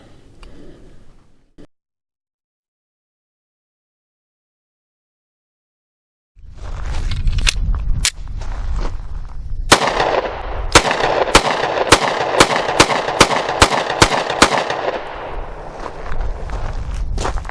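Pistol shots from an inexpensive handgun at an outdoor range: after a brief quiet gap, a rapid series of about a dozen loud, sharp cracks in quick succession over steady background noise.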